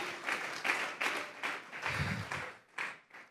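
A church congregation claps in a quick, uneven burst of hands, the bright claps pulsing in loose rhythm for a few seconds, fairly faint and distant.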